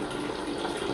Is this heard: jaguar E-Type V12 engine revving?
no